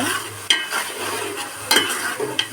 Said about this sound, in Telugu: చక్కగా ఇలా గోల్డెన్ బ్రౌన్ కలర్ వచ్చేలాగా ఫ్రై అవ్వాలి